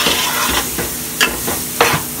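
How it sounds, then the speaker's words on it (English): Onions cooking down in a roux for a shrimp and crab stew sizzle steadily in the pot, with a few louder stirring scrapes and clatters breaking through the continuous hiss. "I'm gonna cook these onions down."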